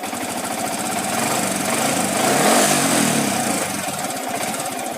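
A Yamaha Vixion motorcycle engine idles in neutral, giving a loud, close, steady rhythmic chugging and mechanical rattle that swells slightly midway and then settles, with no talking.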